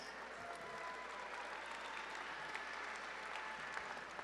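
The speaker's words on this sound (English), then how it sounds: "Bigger a round of applause than that." A crowd applauding at a national gala, steady and even throughout, with no voices standing out above the clapping.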